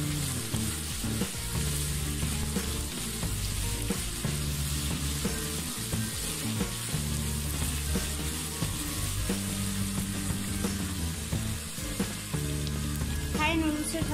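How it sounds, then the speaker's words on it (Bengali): Vegetables fry in a pan for Thai egg noodles, a steady continuous sizzle lasting throughout, partly under background music. "সবজিগুলোকে আমি ভেজে নিচ্ছি ভালোভাবে।"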